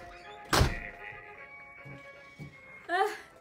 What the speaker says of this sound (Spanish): Tuve que ya cerrar esa puerta porque la dejaron abierta